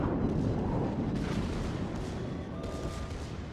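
Heavy warship guns boom in World of Warships, deep rolling blasts of shellfire that rumble and decay, with a second report partway through, loud and close.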